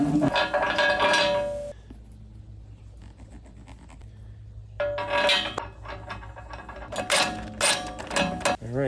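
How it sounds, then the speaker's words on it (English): A pipe wrench works a mashed, worn nut on a driveway, giving metallic clanks, scrapes and ratcheting clatter in two bursts separated by a quieter pause. "So we'll go back to the good old pipe wrench."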